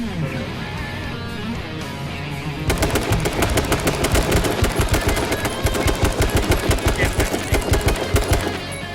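Rapid automatic gunfire in H1Z1 rattles in fast bursts after a quieter stretch of game sound, loud and relentless with a short pause midway.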